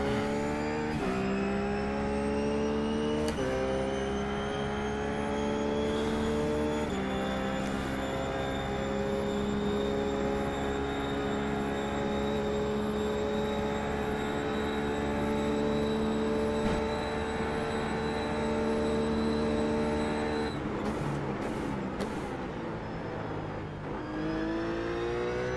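RUF GT3 race car in iRacing at Bathurst, its engine droning loud and steady with sustained high revs, pitch rising through gears with brief shifts and lifts, heard alone without talk.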